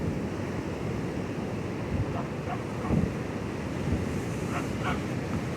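Pacific Ocean surf rolling up onto a narrow beach at Rosa, a steady broad wash of waves with gusty wind noise buffeting the microphone and a few brief swells rising above the constant roar.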